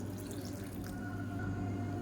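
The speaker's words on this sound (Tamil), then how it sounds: "இப்போ இதில் நல்லா ஒரு மூணு டம்ளர் அளவுக்கு தண்ணி சேர்த்துக்கலாம்" Water pours from a tap into a cooking pot while preparing a South Indian side dish for idli and dosa, a steady close splashing and trickling stream with a low hum beneath, no voices.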